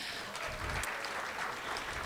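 An audience applauds a pianist at an academic awards program, a steady wash of clapping that holds evenly from start to finish without any voices.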